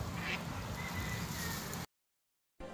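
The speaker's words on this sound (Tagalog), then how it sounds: "Guys, nakikita yung mga wild ducks." Wild ducks quack outdoors near water in a steady, fairly close chorus of calls over ambient noise, which cuts out abruptly near the end before a brief return.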